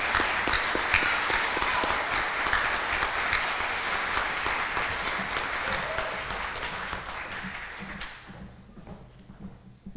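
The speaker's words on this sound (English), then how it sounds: "A final round of applause for our art scholars." Audience applause at a school graduation ceremony for art scholars, a dense steady wash of many hands clapping that carries on for about eight seconds, then thins out and fades to quiet.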